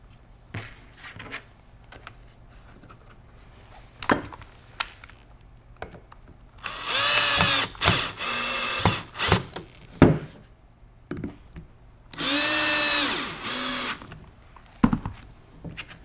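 Power screwdriver backing out Phillips head screws from the recoil pad and comfort-system stock insert of a Benelli 828 U over-and-under shotgun; two separate whirring motor bursts, each a second or two long, over quiet handling clicks and knocks.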